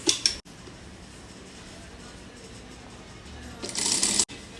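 A sewing machine stitches along the edge of invisible lace in a steady, close mechanical whir, bracketed by a few sharp clicks at the start and end.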